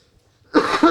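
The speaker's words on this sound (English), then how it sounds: "Excuse my cough." A single sharp cough bursts out after a moment of near silence, close and loud.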